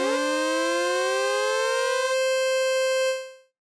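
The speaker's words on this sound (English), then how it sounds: "we're actually having 2 voices sound for every one note that I play on a MIDI controller" Synthesizer note played from a MIDI controller with two voices sounding per note, a bright buzzy tone that glides upward and then holds steady before cutting off, heard alone.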